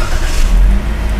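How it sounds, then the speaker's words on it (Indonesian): A Toyota Agya 1.2 G automatic starts by push button and settles into a low, loud idle rumble, close by and brief. "sudah ada engine start"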